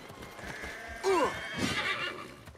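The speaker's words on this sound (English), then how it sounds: "Wait, come back, horse!" A horse in the video game Assassin's Creed Mirage gives a sharp, close whinny, with light hoof clip-clops and game ambience around it.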